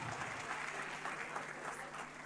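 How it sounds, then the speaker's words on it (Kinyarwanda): An audience claps for a children's dance team in an even, sustained round of applause. The clapping is soft and somewhat distant and never breaks, with no voices over it. "Mumuha amashyi umutipa yakoze akazi katoroshye kabisa"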